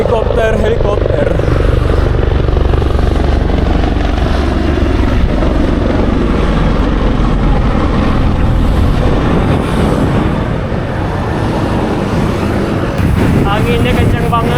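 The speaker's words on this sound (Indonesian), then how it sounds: "Helikopter." A loud, steady helicopter engine roar overhead with heavy wind rumble, a low droning hum that persists throughout without pause, heard while cycling near a Bandung flyover.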